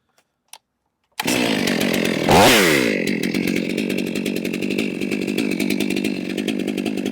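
A brand-new Stihl 500i chainsaw bursts into a loud, close cut through a firewood log after a brief quiet start, its high engine whine steady and dipping slightly as the chain bites, with no talking.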